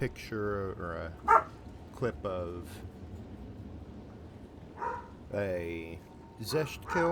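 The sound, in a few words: dog barking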